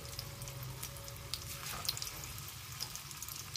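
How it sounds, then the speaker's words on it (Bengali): Potato pakoras frying in hot oil, a steady close crackle and hiss of bubbling oil that runs on without pause, moderately loud throughout. "3-4টে করে পকোড়া আমি এর মধ্যে দিচ্ছি।"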